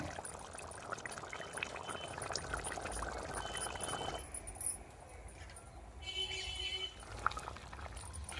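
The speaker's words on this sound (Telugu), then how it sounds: "టమాటా రసం నీళ్లు పోసుకోవాలి" Water mixed with tomato juice poured into a village-style mutton curry, a soft, steady splashing hiss at close range that thins out partway through, with faint background noise.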